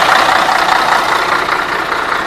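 A Scania K113TL bus engine idles with a knocking rattle, a loud, close, continuous clatter that stays steady throughout with no talk.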